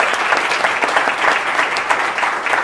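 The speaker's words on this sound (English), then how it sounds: "So I'd like to give them a round of applause as well." Audience at a human rights event gives a round of applause, producing brisk, loud, close clapping that stays steady throughout.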